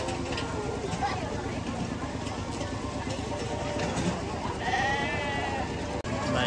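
Goats bleat at a feeding area of a dairy farm theme park amid a dense, noisy outdoor crowd, with a louder close bleat partway through and a voice speaking over the din.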